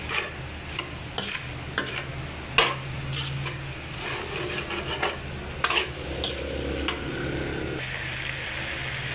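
Chicken liver, gizzard and shrimp sautéing in a pan, a steady sizzle under repeated scrapes and clacks of a spatula stirring the pieces, close and continuous.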